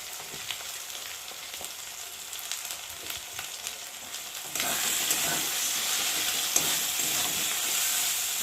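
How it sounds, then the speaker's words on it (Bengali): Spice paste for a country chicken curry fries in a pan with a steady, bright sizzle that jumps louder halfway through, accompanied by occasional stirring scrapes, close up with no voices. "এখন মশলাটাকে ভালো করে ভেজে নেব"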